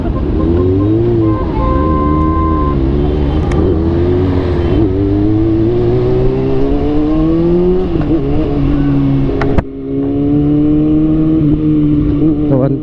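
Motorcycle engine revving loudly up close, its pitch rising and falling through repeated throttle blips in a steady, droning run, with voices now and then underneath.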